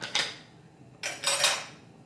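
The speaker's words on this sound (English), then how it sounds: "I'm putting the wok on medium heat" A wok set down on a stovetop burner before coconut oil goes in, giving two short metallic clanks and scrapes about a second apart, close and fairly quiet with no talk.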